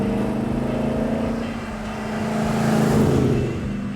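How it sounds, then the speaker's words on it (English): A Maserati sports car engine rumbles steadily up close, a deep throaty idle that swells briefly as the revs rise, then settles back. "I love the sound of this car."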